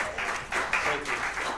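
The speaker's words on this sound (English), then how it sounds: "give these guys another round of applause" A small audience at Bob's claps after a gospel performance of I'll Fly Away, brisk close applause in short uneven swells lasting under two seconds.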